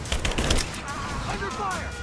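Muffled gunfire in Rise of the Tomb Raider, a dense burst of shots fired through a wall, heaviest early and then trailing into a rumbling firefight with faint voices underneath.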